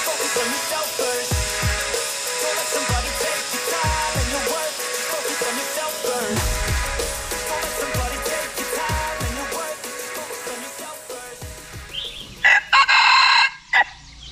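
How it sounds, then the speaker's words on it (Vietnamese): A rooster crows repeatedly and loudly outdoors in rural northwest Vietnam, long drawn calls mixed with clucking fowl, low thumps in between and a burst of louder crowing near the end. "gáy gì mà gáy to thế"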